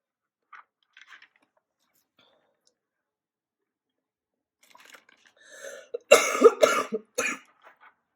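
A person coughs several times close up, a cluster of harsh bursts near the end after quiet stretches with faint small noises.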